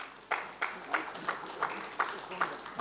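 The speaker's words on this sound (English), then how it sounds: "A round of applause for Mr." Applause for a Lifetime Achievement Award recipient at Lagos International Maritime Week in a hotel hall, with sparse, evenly spaced claps sounding over a murmur of voices.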